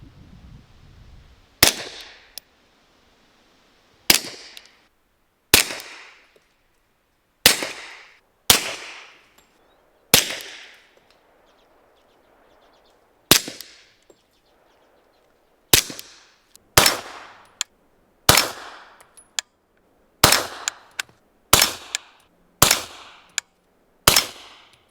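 About fourteen loud, sharp pistol reports fired through a Dead Air Ghost M .45 modular suppressor, each a hard crack with a short decaying tail, spaced irregularly in singles and quick pairs with silence between and no talking.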